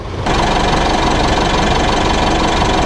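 A Mitsubishi 4D56 diesel engine in a Pajero Sport or Triton starts up and settles into a loud, steady idle with a knocking clatter, running during an oil flush.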